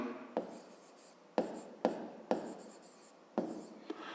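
Pen or marker writing a math expression by hand during a fifth-grade arithmetic lesson, a series of distinct tapping strokes and soft scratches close up, alone with no talk.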